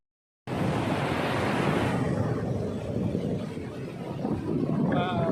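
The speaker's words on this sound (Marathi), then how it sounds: "हे बघा कसली लाट आहे" Sea waves break and wash continuously onto a quiet, uncrowded beach near Vayangani, Ratnagiri, on the Konkan coast, with a broad roaring surf and some wind noise on the microphone.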